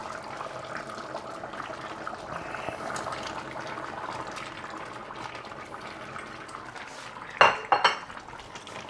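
Vegetables tipped into a cooking pot of goulash with a few sharp clattering clanks of metal and pan near the end, over a steady low kitchen background.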